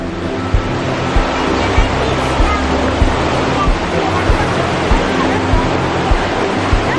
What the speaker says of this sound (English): We probably can't hear anything but the water.